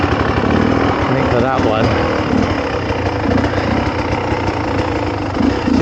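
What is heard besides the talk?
dirt bike engine idling in the forest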